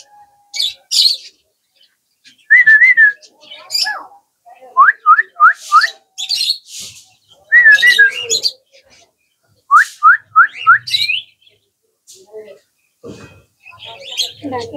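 Young lovebird chicks give repeated bursts of high, rising chirps and whistly calls, close and fairly loud, in clusters separated by short quiet gaps.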